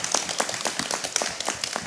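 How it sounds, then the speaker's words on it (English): An audience claps together at an arts and culture event in a Venice palazzo, a steady, fairly loud wash of applause that lasts throughout without any voices over it. "We should give them a big round of applause."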